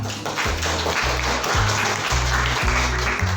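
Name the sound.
applause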